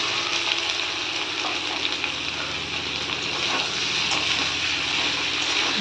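Small whole boiled potatoes frying with spice paste in a pan, a steady, close sizzle with light stirring scrapes throughout.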